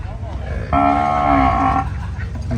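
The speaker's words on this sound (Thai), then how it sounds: "ถึงงัวถึงควาย นี่ก็หลายตัวอยู่" At a rural cattle and buffalo market in Khok Charoen, one animal lets out a loud, close, drawn-out moo lasting about a second, over a busy background murmur.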